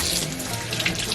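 Water running steadily from the tap of an Imperial Berkey water filter in a continuous splashing stream, close and fairly loud, with no voices.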